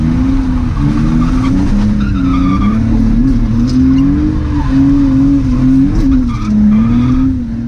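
A BMW E46 drifts with its rear tires squealing in a steady, wavering howl under a loud engine, the squeal lasting the whole stretch and rising and falling as the car slides.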